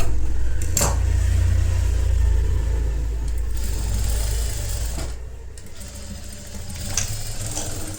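A sewing machine hums steadily and close while stitching cutwork lace onto a dupatta. Its low motor drone runs almost without a break, with a few faint clicks and handling knocks and no talking.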